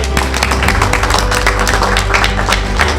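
An audience at a college event claps for a student, giving dense continuous applause that stays loud and steady throughout with no speech over it.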